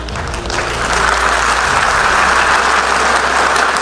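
An audience applauds loudly and continuously, a dense wash of clapping that swells in after the first half second and holds steady without any talk over it.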